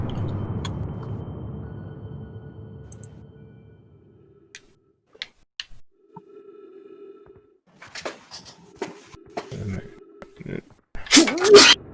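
A sharp, loud sneeze bursts out near the end, close to an open microphone during an Outer Wilds game stream, following quiet stretches of soft ticks, faint clicks and a low hum.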